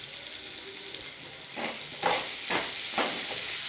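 Ginger sautéing in a pan for a Tamil inji pachadi, a steady close sizzle with a few louder stirring scrapes and surges in the second half, no talk.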